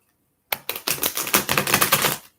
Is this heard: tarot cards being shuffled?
yes